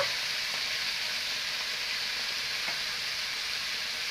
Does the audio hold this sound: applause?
no